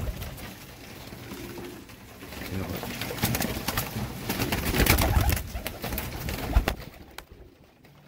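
Rooftop pigeons, fancy breeds such as Teddy pigeons, coo softly in a loose, repeated murmur. Wingbeats and movement rise and fall, and someone talks over them.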